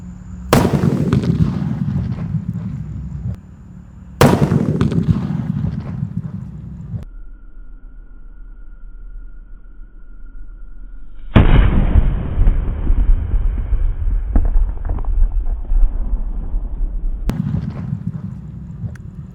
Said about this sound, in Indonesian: Menyalakan semua jenis mercon luar negeri, mulai dari yang paling kecil sampai dengan yang paling jumbo.